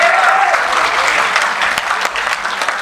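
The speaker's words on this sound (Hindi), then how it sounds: "ताली वाली बजाओ जरा हाथ खोल के।" An audience at a Hindi hasya kavi sammelan comedy poetry gathering breaks into loud, close, sustained applause that fills the whole stretch. A brief high whistle-like tone rises at the very start.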